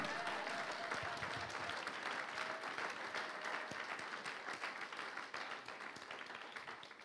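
A church congregation breaks into sustained, dense applause and cheering that fills the room evenly and stays loud throughout, easing off only slightly at the end.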